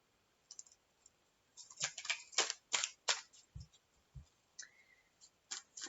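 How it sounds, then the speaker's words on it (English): Tarot cards being shuffled by hand, a run of soft papery riffles and slaps clustered in the middle, fairly quiet and close, with no talk. "I should have shuffled these while I was looking at the astrology."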